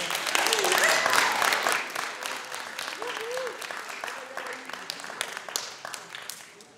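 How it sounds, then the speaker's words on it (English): An audience at a high school civics debate claps for the debaters, fairly quiet applause that thins out into scattered claps, with voices audible underneath. "So I just want to give a round of applause to all the debaters today."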